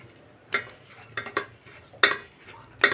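Hot cooked dal for puran poli pressed through a metal sieve with a spoon, giving a few sharp, close scraping clinks spaced apart against a quiet background.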